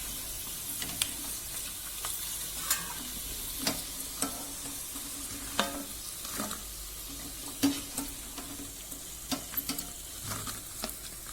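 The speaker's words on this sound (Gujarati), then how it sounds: "તો સૌથી પહેલા આપણે ભૂંગળા તળી લઈશું" Bhungla snacks crackle and hiss in hot oil for a Gujarati street-food dish, a soft continuous sizzle broken by light tapping and stirring clicks throughout.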